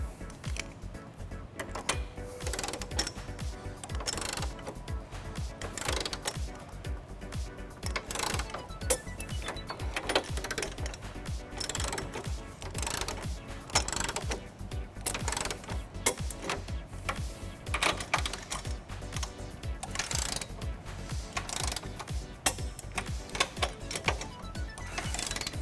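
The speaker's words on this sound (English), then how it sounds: "now we're going to tighten and torque all of our nuts to the manufacturer specification" A ratchet fitted with a 19mm deep well socket tightens trailer hitch nuts on a 2017 BMW X5, a rapid continuous clicking close by with short pauses, going on without a break.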